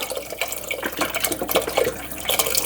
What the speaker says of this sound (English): I'm going to pour in the whole container of broth